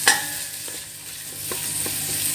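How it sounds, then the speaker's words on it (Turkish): Steady soft sizzling of onions and tomato paste frying in a pan, with a few faint stirring scrapes and no talking. "Soğanlarımızı kavururken içine bir yemek kaşığı kadar salça koydum."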